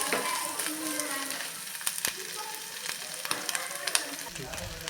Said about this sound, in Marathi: तर हाही आपण तुपावरती छान फ्राय होऊन देऊयात एक साधारण दोन मिनटे